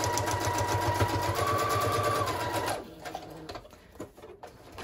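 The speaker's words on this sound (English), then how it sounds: "I'm just gonna take my back piece and I'm gonna sew just all around the three edges" A sewing machine stitches around the edges of an illustrated book page for a handmade journal, whirring steadily for nearly three seconds before stopping, followed by quiet paper and handling sounds.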